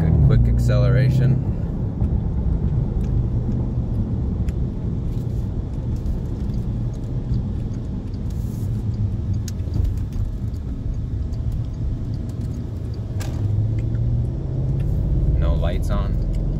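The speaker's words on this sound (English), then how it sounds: "Quick acceleration." A car pulls away quickly, its engine rumble and road noise steady and close throughout, with people talking over it.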